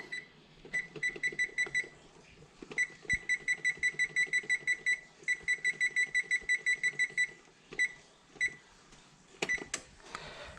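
A kitchen timer alarm beeps in rapid bursts of repeated tones, sounding in several rhythmic runs with short pauses between them, clear and close over faint room noise.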